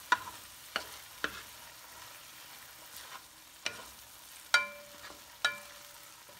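Minced meat with black bean sauce for mapo tofu is stirred in a hot pan: sharp spatula taps and scrapes recur every second or so over a faint, low sizzle, with no voices.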